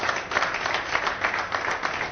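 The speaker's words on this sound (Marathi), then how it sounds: "जोरदार टाळ्या" Audience applause at a MahaBrand awards event honouring Yojak Foods: a steady, even wash of many hands clapping that fills the whole moment without a break.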